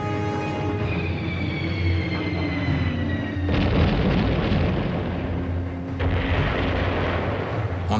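Heavy WWII aerial bombing of a hilltop abbey, with dense continuous rumbling blasts and roaring explosions filling the whole stretch, swelling louder in bursts with sustained low boom beneath, loud and close.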